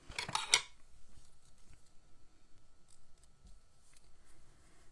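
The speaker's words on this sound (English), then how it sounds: "So I would probably trim my corners." Scissors snip the corners off a handmade fern-themed card: a quick cluster of crisp, close cuts at the start, then faint handling rustle and near silence.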